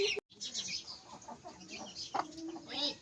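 Chickens cluck and chatter close by in a busy, scratchy flock foraging in the evening, with faint background noise and a brief cut near the start.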